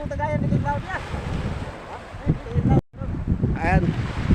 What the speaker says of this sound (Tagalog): Medyo mahangin. Ang hangin ay dumagsa.